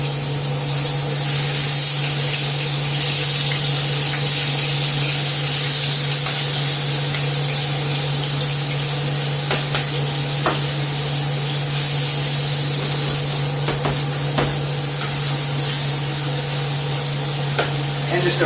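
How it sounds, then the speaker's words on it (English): Marinated chicken fajita strips hit a hot pan and sizzle loudly and steadily, a constant hiss with occasional sharper crackles as the meat is stir-fried with a spatula. "You immediately hear that sizzle, you know the pan's hot enough."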